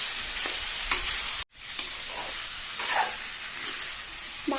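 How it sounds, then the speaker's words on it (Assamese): Pork, potatoes and spices fry together in a pan for a pork masala gravy with bamboo shoot, giving a steady loud sizzle with stirring scrapes and a brief cut to silence early on. "মাংস, আলু, মছলা এইখিনি সকলোখিনি ভালদৰে 5 মিনিটমান ভাজি ল'ব একেলগে"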